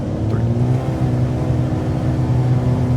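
A Cirrus aircraft engine held at full takeoff throttle on the runway in a flight simulator game, a loud, steady drone with a constant low hum that stays even throughout, alone with no talk.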